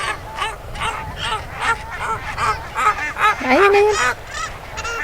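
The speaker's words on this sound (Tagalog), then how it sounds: "And tingnan niyo yung mga ibon doon." Geese and ducks honk and quack repeatedly from a spot overlooking a distinctive bridge in the Netherlands, with some calls loud and close and others overlapping, while people talk briefly nearby.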